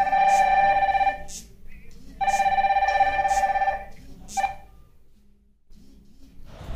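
Gionee and Zebronics smartwatches ring for an incoming call, giving two bright electronic ringtone bursts followed by a short beep, clear and close, with quiet background noise after the ringing stops.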